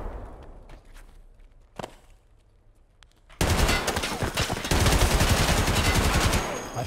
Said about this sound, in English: That's me shooting on the right